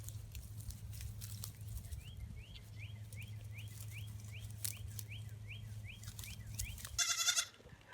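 A small goat gives a string of short, faint, rhythmic bleats over a steady low hum, ending with a louder brief burst of noise.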